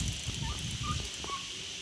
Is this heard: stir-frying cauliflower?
no